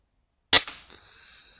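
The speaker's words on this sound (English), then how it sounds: "I will show you the shot and then I will slow it down." A single sharp crack from an air rifle firing a pellet at a rat, close and loud against silence, followed by a brief ringing decay.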